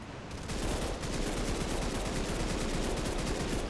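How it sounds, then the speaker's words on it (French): Sustained automatic fire from an odd weapon in a shooting video game: after a brief quiet start, a rapid, unbroken stream of shots carries on at a steady, close, loud level. "quand tu commences à tirer, en fait, les premières balles, elles partent n'importe comment"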